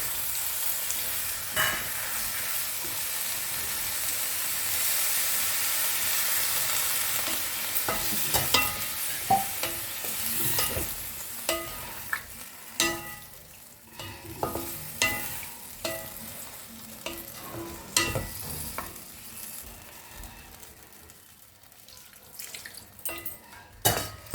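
Cauliflower frying in a pan for phulkopi badshabhog hisses and sizzles as a splash of water hits it, with scattered sharp crackles and pops growing more frequent over a steady close-up fizz.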